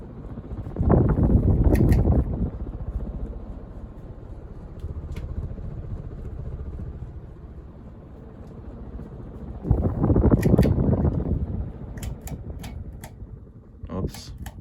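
A glossy black 1986 Casablanca Delta II ceiling fan runs with a steady soft whoosh of moving air, swelling twice into louder rushing gusts, with a few faint clicks toward the end.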